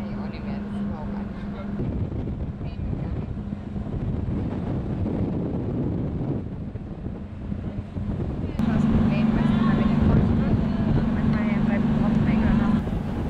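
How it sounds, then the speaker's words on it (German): A motorboat engine drones steadily under wind and rushing water heading out to a shallow sandbar off Grand Cayman, its hum growing louder later while a voice talks over it. "Mit dem Boot geht es hinaus zu einer flachen Sandbank."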